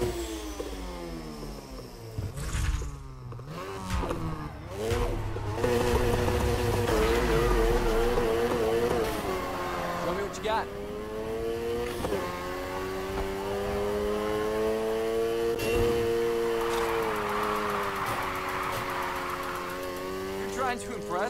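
A car engine in Need for Speed Heat revs hard and climbs through gears while drifting, with rising whines and tire squeal, loud and sustained over game music and intermittent voices.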